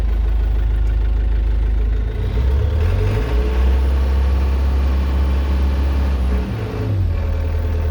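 A Link Belt 2700 Quantum excavator diesel engine runs steadily after a fuel issue, a loud deep rumble with turbo whine layered above, briefly rising in pitch twice as it revs, heard close up without talk.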